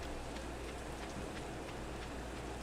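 Steady rain in Stardew Valley pours down as a dense, even hiss of drops that stays constant and fairly soft throughout, with no voices.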